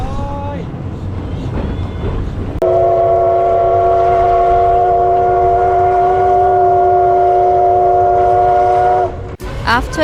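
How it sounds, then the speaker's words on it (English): A loud, sustained steam train whistle blows for several seconds over rumbling train noise, echoing through a valley, then cuts off as a lighter hiss and clatter continue. "the sound of the steam and the"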